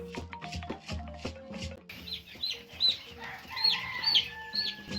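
Chickens on a poultry farm in Obala, Cameroon, cluck in short repeated bursts up close, followed by a rooster crowing and higher squawks among the flock.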